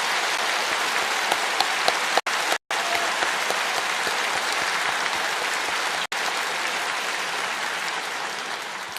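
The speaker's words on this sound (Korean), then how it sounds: "우리 한번 격려의 박수 한번 보내드리겠습니다." A congregation at a dawn worship service gives a dense, sustained round of applause in encouragement, loud and even like heavy rain, broken by a couple of brief dropouts.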